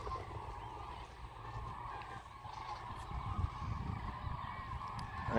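Large birds, likely cranes or geese, call in a flock at Thol bird sanctuary, faint honking calls carrying from a distance over a steady outdoor background.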